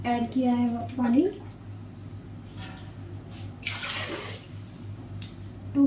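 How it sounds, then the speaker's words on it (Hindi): Water poured into a pressure cooker of rice on a home kitchen stove, a steady running splash that swells and fades over several seconds while someone talks over it. "तो अब मैं इसमें पानी ऐड करूँगी।"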